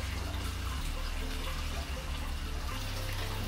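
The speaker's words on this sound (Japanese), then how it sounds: "露天風呂、チャパチャパといい音が鳴っております。" Water splashes and laps steadily in an outdoor open-air hot spring bath at a Kinosaki Onsen hotel, a soft, continuous wash of trickling and sloshing heard from close by, with no talking.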